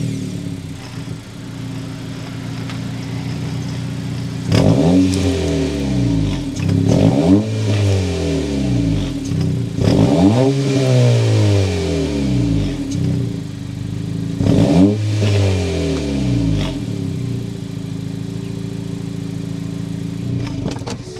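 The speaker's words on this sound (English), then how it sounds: "start it up so you can hear that exhaust note." A 2023 Honda Civic Si with a 1.5-liter turbo engine idles close by, then its exhaust is revved in about five sharp blips, each rising and falling back to a steady idle between them.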